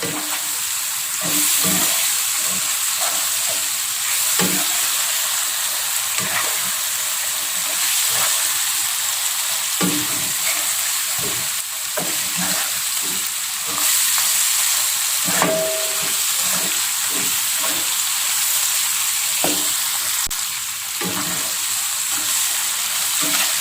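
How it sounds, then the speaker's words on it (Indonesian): Fried tongkol tuna being stirred into spicy balado sambal in a hot pan, with steady close sizzling and frying hiss broken by repeated scraping stir strokes, no talking. "Selanjutnya kita masukkan ini ikan tongkol yang kita goreng. Kita aduk rata."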